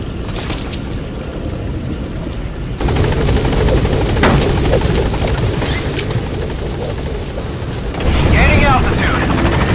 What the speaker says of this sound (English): Time to get on the chopper.